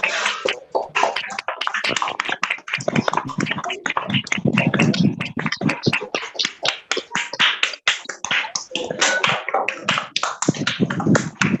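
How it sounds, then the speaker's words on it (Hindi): Many children clapping together over an online video call during a Lucknow online children's values class, scattered and continuous clapping at close range, with voices and talk mixed in throughout. "अभी बच्चे ताली ही बजाए जा रहे हैं"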